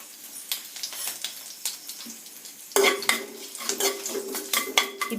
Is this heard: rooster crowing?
no